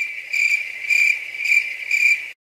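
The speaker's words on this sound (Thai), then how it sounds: "เปิดเสียงจิ้งหรีดได้ไหมอ่ะ" A cricket chirps in four evenly spaced, shrill, pulsing trills, loud and close, ending abruptly in silence.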